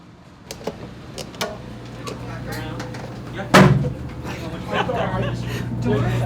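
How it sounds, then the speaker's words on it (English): Aboard a liveaboard dive boat, a door slams with a single loud, close bang midway, amid light knocks, a steady engine hum and people talking nearby. "Trying to break the door?"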